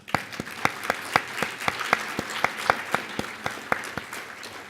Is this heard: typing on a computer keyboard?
no